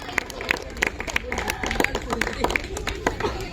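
An audience claps for children at a neighbourhood Saraswati Puja afternoon games event, a steady patter of hand claps over crowd murmur and nearby voices.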